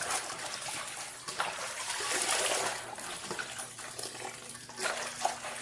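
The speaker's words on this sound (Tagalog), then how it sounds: "huhugasan natin at ang ating kangkong" Kangkong (water spinach) being washed in water, with splashing and trickling that comes in uneven surges close by, rising and falling over several seconds with no voices.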